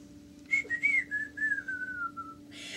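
A single person whistles a short, gliding tune that slowly descends in pitch, clear and close against a quiet background.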